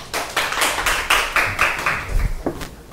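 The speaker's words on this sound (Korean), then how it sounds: "큰 박수 부탁드립니다." A lecture audience gives a round of applause for a speaker at a marine conservation talk, with scattered, uneven claps from a modest crowd, fairly close and rhythmically irregular.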